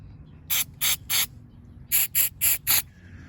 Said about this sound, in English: we got our carb throttle body cleaner. Shake it up real good. Give it a couple sprays, bam, bam.